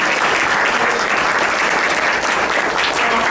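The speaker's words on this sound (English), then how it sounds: "Big round of applause and a shout out to our musicians" An audience at a Lincoln Center panel on Puerto Rican music applauds two jazz musicians, a dense, sustained burst of clapping filling the room, loud and steady throughout.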